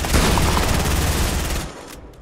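Rapid, dense automatic gunfire from a Fortnite match, a loud continuous burst that runs for most of the moment before cutting off, with a faint click after.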